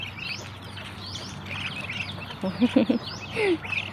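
Farm ducks quack in a few short bursts near the end, over softer chirping birds and a low steady background hum on a rural morning homestead.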